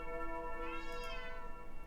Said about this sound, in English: Kitty, shut up.